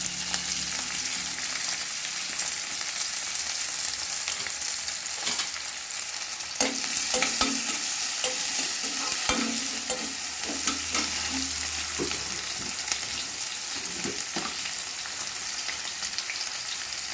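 Chopped onion and green chilli fry in hot oil for kothu parotta, a steady close sizzle with scraping stirs and occasional spatula clinks on the pan throughout.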